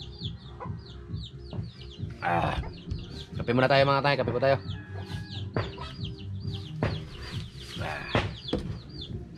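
Pet chickens cluck in short, scattered bursts nearby while someone talks over them, the clucks continuing between his phrases.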